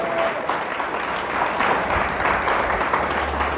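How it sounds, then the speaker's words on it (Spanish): A church congregation claps steadily after a pastor's call during a Spanish-language sermon, a continuous even wash of applause from a crowd throughout. "Alguien le da un aplauso a nuestro Dios"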